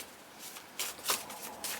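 Prompt cards being shuffled by hand, a few soft papery riffles and slides close up, with quiet pauses between bursts and no talking.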